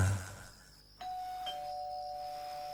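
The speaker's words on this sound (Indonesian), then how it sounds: "aku dikejutkan dengan bunyi bel yang berbunyi" A doorbell sound effect from a radio horror drama rings once with a clear electronic ding-dong chime whose tone holds and sustains in a quiet room.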